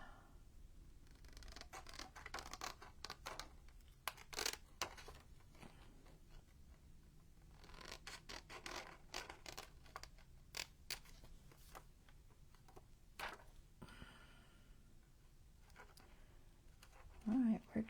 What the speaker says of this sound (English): go ahead and cut this piece out